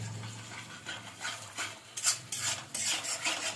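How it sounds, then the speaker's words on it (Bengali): Spice paste being stir-fried in a pan on a gas stove, a steady rhythm of scraping and stirring strokes with soft sizzling underneath, close and moderately quiet, with no voices. "মশলাটা ভালো করে কষে নিচ্ছি।"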